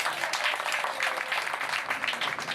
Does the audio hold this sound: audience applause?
yes